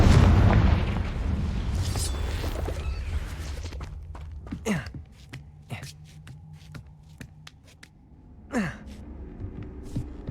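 A Confringo fire spell in Hogwarts Legacy bursts with a loud booming blast, followed by a series of sharp crackling impacts and whooshes from spellcasting.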